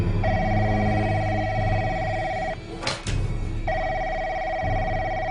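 A doorbell at the door in a Turkish comedy sketch rings with a loud, sustained electronic tone, breaks off briefly, then rings again.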